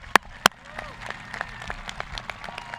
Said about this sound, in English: How about a big round of applause for the Red House graduates of 2020?